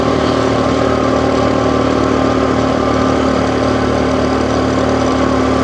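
A tiny scooter's small engine drones steadily in third gear, a continuous close, even hum with no change in pace and no voices.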